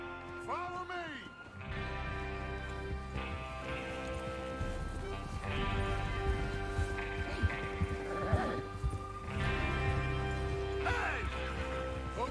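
Horses are ridden in the video game Red Dead Redemption 2, giving steady clip-clopping hooves and an occasional whinny beneath in-game dialogue and music.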